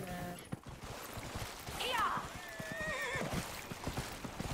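A horse in the video game Dragon Age: Inquisition gives a short, warbling whinny amid clip-clopping hooves, with a person talking over the game sounds.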